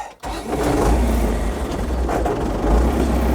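An MTZ-892 tractor engine running loud and close during ploughing, a steady heavy diesel rumble that kicks in after a brief pause at the start and holds firm throughout.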